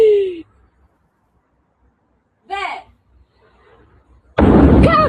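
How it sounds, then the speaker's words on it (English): A large blast at a munitions factory near Colleferro, Rome, lands as a loud, sudden roaring burst near the end, after scattered short exclamations from a voice amid otherwise quiet moments. "Large explosion rips through Italian munitions factory"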